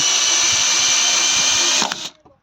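A power tool drives a long Torx screw into pre-drilled timber of a garden shelter. Its loud, close, steady whine runs for about two seconds and then cuts off abruptly into a short rattle.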